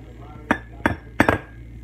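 Tiny egg shells being cracked, about four sharp brittle clicks in quick succession, close and distinct over a quiet background.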